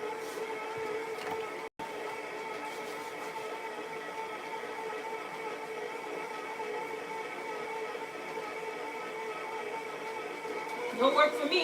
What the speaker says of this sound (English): Put it in the mixer and allow the mixer to do its thing